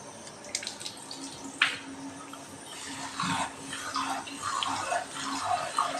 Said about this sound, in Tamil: நல்லா அரிசி கிளையணும்.